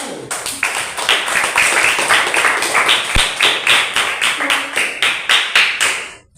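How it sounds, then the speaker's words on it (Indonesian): A classroom in Indonesia claps for a student group, a loud rhythmic unison of about twenty steady, evenly spaced claps that ends abruptly, with no talk over it. "Tepuk tangan untuk kelompok 1."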